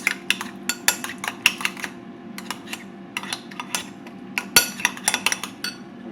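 A utensil stirs ketchup into a sandwich dressing in a bowl, giving rapid, uneven clinks and scrapes against the dish that repeat throughout, close up with no talking.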